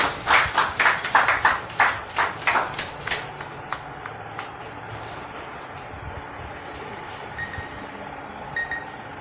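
An audience at a football club's honoring ceremony in Saint-Marc claps in rhythmic unison, quick loud beats that slow and fade into scattered faint claps over a low background murmur.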